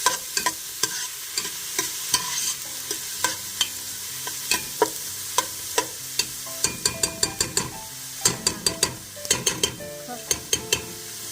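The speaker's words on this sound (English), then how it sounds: "So now I'm just going to stir this." Onions frying in a pot for keto seafood chowder are stirred, so a bed of sizzling sits under repeated, sharp scraping strokes that come faster and in clusters toward the end, close by with no talking.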